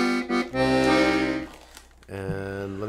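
Bass side of a red Titano Tiger Combo Cordeen LMQ accordion, deep sustained harmonic chords played close and alone, two held phrases separated by a brief dip before a final lower chord.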